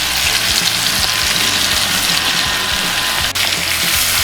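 Smashed garlic cloves frying in a hot pan alongside steaks, a loud, continuous close sizzle and crackle that holds steady throughout, with no voices.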